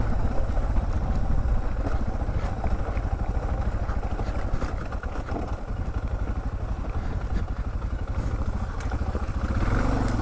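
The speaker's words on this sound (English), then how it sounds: "controlling the motorcycle" A motorcycle climbs a rocky trail on Mt. Carmel, its engine rumbling low and steady up close while loose stones clatter under the tires throughout.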